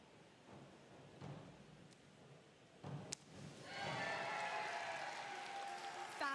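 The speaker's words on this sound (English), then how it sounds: "Arizona crowd going crazy right behind me." Spectators at a college swimming and diving meet erupt into loud cheering and applause partway through, the crowd noise swelling after a quieter stretch with a sharp splash-like hit and holding steady to the end.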